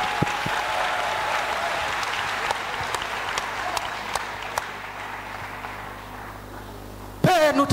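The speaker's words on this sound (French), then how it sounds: "Acclamez pour Jésus-Christ." An audience at a church growth conference claps steadily in a large hall, the applause sustained and full throughout before a voice breaks in at the very end.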